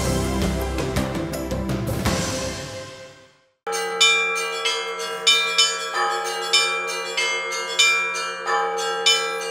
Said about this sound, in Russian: Радостный звон колоколов возвещает о знаменательном событии